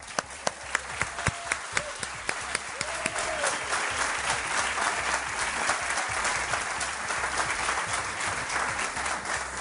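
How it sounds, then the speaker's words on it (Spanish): An audience applauds for a live special programme in Belmez, Spain. A few sharp individual claps open the stretch, then dense, sustained clapping fills the room at an even level throughout. "os pido un aplauso a todos"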